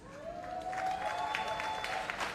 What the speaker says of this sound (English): A big round of applause both for our guest speaker, Minister Morris Dixon, and our creative talent, the artist, Mr. Patrick Hall